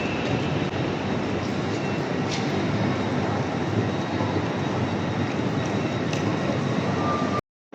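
A train rumbles steadily with constant broadband noise for several seconds, loud and nearby, before the sound cuts out abruptly.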